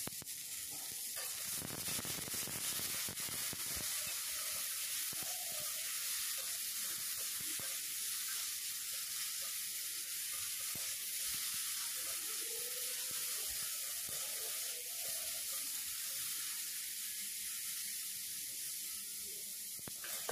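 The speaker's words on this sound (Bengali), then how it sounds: "এবার নুন এবং হলুদ দিয়ে এবার উচ্ছে এবং আলুকে খুব ভালো করে ভেজে নিতে হবে।" Bitter gourd and potato pieces fry in a pan with salt and turmeric. A faint, steady sizzle hisses softly throughout, with a few light stirring rustles and no voices.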